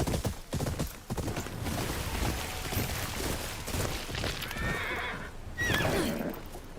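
A horse in the Ghost of Yotei video game whinnies with rising, wavering calls over steady clip-clop hoofbeats and a busy background of game sounds, loud and close.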